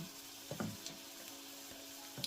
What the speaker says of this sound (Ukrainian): смажимо котлети на вище середньому вогні та ще й під кришкою